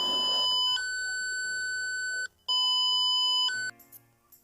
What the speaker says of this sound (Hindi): देखो, जैसे ही फायर आता है तो ये स्पीकर बीप करता है